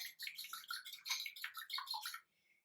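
An egg and a tablespoon of water beaten in a bowl for an egg wash, a rapid burst of close, bright clattering whisk strokes that stops abruptly near the end.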